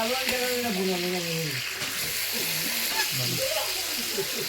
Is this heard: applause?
no